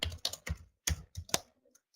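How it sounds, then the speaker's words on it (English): Typing HTML code on a computer keyboard: a short run of about seven crisp, close key clicks in an uneven rhythm, trailing off into a few faint taps. No voices. "I just immediately close it and just come back again in between and type the code"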